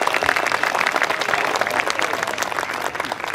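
Concert audience applauding a soul singer, a dense, loud burst of many hands clapping close by, sustained and uniform with faint crowd murmur mixed in.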